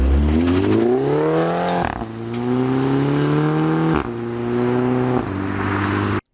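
A Volkswagen GTI with a DSG dual-clutch transmission pulls hard and climbs through the revs, with several quick, crisp upshifts that briefly cut the engine note before it rises again. The sound is loud and close, with no talk.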